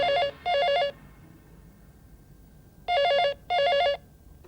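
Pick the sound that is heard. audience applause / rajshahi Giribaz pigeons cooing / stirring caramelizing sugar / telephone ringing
telephone ringing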